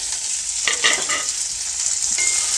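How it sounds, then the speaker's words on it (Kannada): Chopped onions fry in a pan for a lunch-box curd rice, giving a continuous close hiss with a few brief stirring scrapes partway through. "ಇವಾಗ ಈರುಳ್ಳಿನ ಒಂದು ಎರಡರಿಂದ ಮೂರು ನಿಮಿಷ ಒಂದು ಸ್ವಲ್ಪ ಫ್ರೈ ಮಾಡ್ಕೊಳ್ತೀನಿ"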